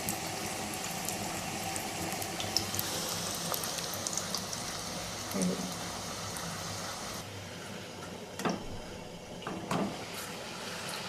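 Sugar syrup boiling in a pan for sweet laddu, a steady bubbling, rain-like simmer with soft pops that runs throughout at a moderate level.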